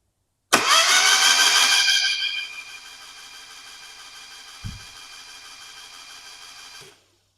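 A classic Mini engine, spark plugs removed, is cranked on the starter: a loud whirring burst at first, then a steadier, quieter spinning drone with a single clunk partway through, before it stops abruptly.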